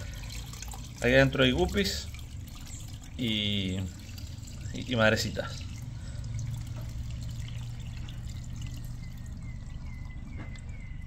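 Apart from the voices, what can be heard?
water being poured to refill a pond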